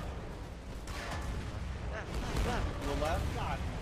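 Artillery and gunfire from the war game Foxhole rumble in a dense, continuous wash of battle noise, with excited voices shouting over the top throughout.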